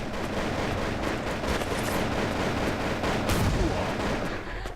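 Howitzer artillery fire in the Crisis Action VR video game: dense, continuous rumbling blasts and booms, loud and close, forming a sustained barrage without distinct pauses.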